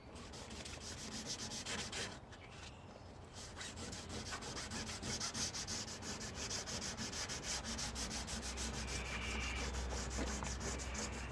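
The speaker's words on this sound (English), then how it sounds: "What's good about the smaller sandpaper is it actually allows you to go around things easier instead of being caught up on them." Body of a 1957 Chevy hand-sanded with a small piece of sandpaper, a steady close rasping rub with continuous back-and-forth strokes, fairly quiet, no one talking.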